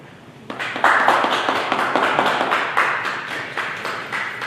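Applause from an audience honoring a group of women, a steady crowd clapping that starts abruptly after a brief quiet moment and continues at full strength throughout.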